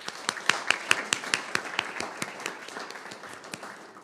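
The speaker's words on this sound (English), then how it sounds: "And so round of applause for Mr. Russick." Audience applause at a school board meeting, a sparse, moderately quiet scattering of individual claps with distinct sharp hits that thin out and fade over about four seconds.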